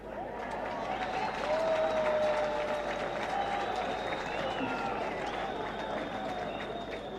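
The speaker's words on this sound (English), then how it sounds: "another round of applause." A crowd applauds at the official unveiling ceremony of the Mbuya Nehanda statue, with sustained, even clapping spread across the gathering and voices mixed in throughout.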